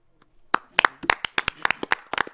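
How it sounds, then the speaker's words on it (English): An audience at a Wilmington city council meeting claps for an honoree, starting faintly and building into a run of sharp, fairly close, irregular hand claps with no talking. "we applaud you tonight"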